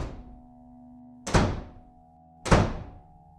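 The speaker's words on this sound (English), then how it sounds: "the sound of a door slamming in the hallway" Two heavy door slams boom through a hallway about a second apart, each a hard thud that rings out into a long, fading reverberant tail over a low droning backdrop.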